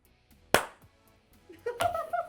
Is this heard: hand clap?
yes